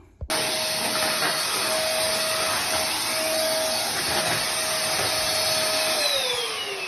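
A vacuum cleaner fitted with an attachment runs steadily over the floors, starting abruptly and holding a loud, close whine with a constant tone that dips slightly near the end, with no talking.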